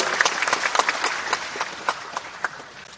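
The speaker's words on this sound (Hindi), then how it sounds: "ताली बजा के कैलाश जी का स्वागत करें।" An audience applauds at a national highway project groundbreaking and inauguration ceremony in India, lively uneven clapping from a sizable crowd, steady throughout and slowly thinning toward the end.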